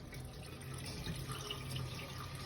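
Running water rinsing small stones in a wash, a steady close rush with faint splashing and drips throughout, no voices.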